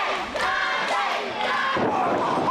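Wrestling crowd at a New York Championship Wrestling match roars and shouts continuously, loud and dense, with a few dull thuds mixed in, brief and unbroken throughout.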